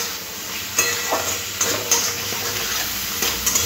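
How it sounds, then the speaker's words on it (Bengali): Fried potatoes being stirred and tossed into a spice paste in a pan, with a steady close sizzle broken by several scraping stir strokes and light utensil knocks. "ভেজে রাখা আলুটা দিয়ে দেব, দিয়ে মশলার সাথে খুব ভালো করে আরও একবার কষে নিতে হবে।"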